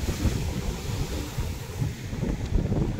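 Strong sea waves pound against a damaged revetment wall along a shore. A steady, roaring wash of surf mixes with wind buffeting the microphone, with no speech.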